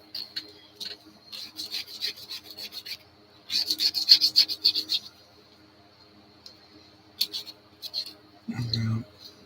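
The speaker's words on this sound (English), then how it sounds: "gonna sand a little bit more" Sandpaper rubbing on a toy car body, a plastic Multi Maverick model being modified, gives repeated bursts of dry rasping strokes, with gaps and a voice speaking between passes.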